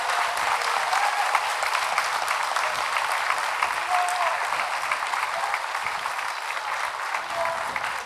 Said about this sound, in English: How about another round of applause for our well-deserving class of 2023 graduates?